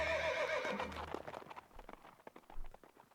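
In the video game Fire Emblem Echoes: Shadows of Valentia, a horse gives one loud whinny and then clip-clops off, its hooves fading into a quieter run of footfalls.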